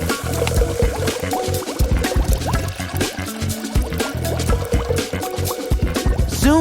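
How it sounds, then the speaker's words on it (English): Resin being poured over a layer of Orbeez water beads in a craft project, a close, wet glugging and dripping with squishy bubbling and a trickling stream, fairly loud and continuous, with no speech. "pour on some resin"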